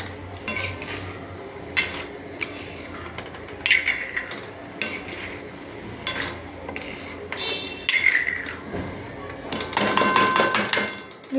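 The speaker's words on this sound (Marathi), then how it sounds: "5 मिनटं ह्याच्यामध्येच मसाल्यामध्ये असं ढवळत राहायचं" A spoon stirs masala and peas in a pan for a mutter paneer gravy, scraping and clinking against the metal in repeated bursts, with a low sizzle beneath and louder clatter toward the end.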